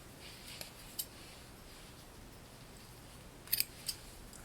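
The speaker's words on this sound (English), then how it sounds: "And then we're going to remove the yarn from the feeder, and we're going to cut it." Scissors snipping yarn after it comes off a Sentro knitting machine feeder: a few quiet, crisp cuts close by, a single snip and then a quick double snip with one more, against near silence.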